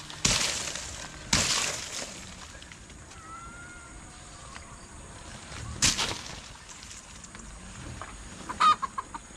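A hen clucks while searching for a nest to lay eggs, with a few short, sharp squawks and scattered soft clucks amid quiet rural background noise, fairly close by.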